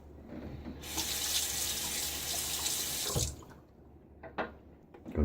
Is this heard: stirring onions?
no